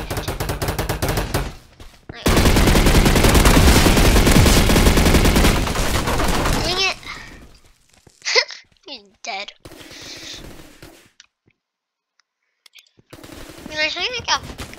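Sustained automatic gunfire rattles loudly for several seconds during a video game shootout. It then breaks off into scattered bursts, with excited voices speaking between them.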